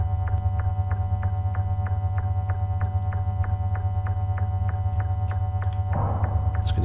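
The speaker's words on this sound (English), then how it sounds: "we turn off the Helicon ionizer. And there you go, you can hear that, we're now in cold gas mode." A spaceship engine in cold gas mode in the Rogue System space game, with the Helicon ionizer switched off: a steady low throbbing hum with a regular ticking pulse, loud and continuous, ending in a brief burst of hiss.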